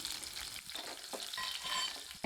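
Close, steady sizzling and crackling of fennel seeds and small onions frying in hot oil, with occasional stirring scrapes.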